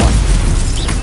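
Stupefy stunning spell cast in the Hogwarts Legacy video game, a single dense, loud magical burst with a booming low-end impact that fades over about a second.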